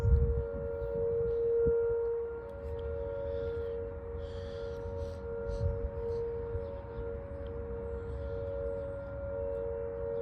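Civil defense sirens wailing during a city siren test in St. Louis, a steady distant tone held under low outdoor rumble, sounding fairly quiet and far off.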